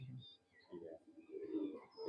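Pigeons coo in soft, low rolling calls, with a brief pause before a longer bubbling stretch of cooing close by.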